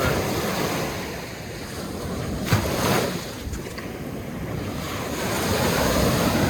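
Cold sea waves wash steadily onto the shore with a constant rushing roar and gusts of wind buffeting the microphone.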